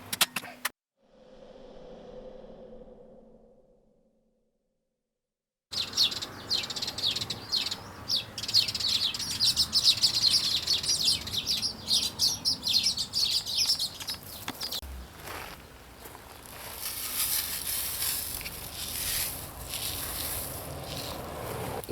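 Small birds chirp and tweet around a wooden bird table outdoors, with scattered bright calls over a steady background of outdoor ambience and a distant passing vehicle.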